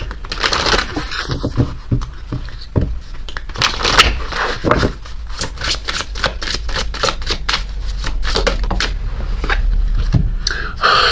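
Oracle cards being shuffled by hand, a steady run of dense, crisp papery riffles and flicks lasting throughout at close range, with no talking.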